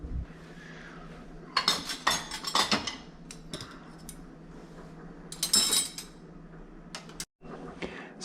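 Metal spoons clinking and clattering as they are arranged in a dishwasher basket, with two clusters of sharp jangles and a few isolated taps over a quiet room hum.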